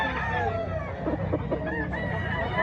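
Gamecocks at a rooster expo in Mantalungon, Barili, Cebu crow and cluck amid a busy, noisy crowd, with birds calling close by over the constant background chatter.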